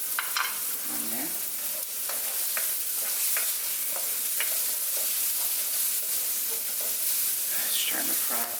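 Vegetables stir-fry in a wok for a light summer pasta, a close continuous sizzle punctuated by frequent scraping and clinking of a spatula, with no talking.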